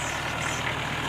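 A 1970 vehicle's engine idles steadily at close range, a continuous low rumble with a faint even pulse and no talk over it.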